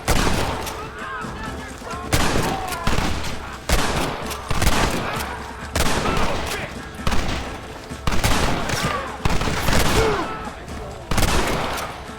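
Gunfire crackles in the Red Dead Redemption video game, repeated volleys of loud, close shots in bursts roughly every second or two, with shouted voices mixed in between.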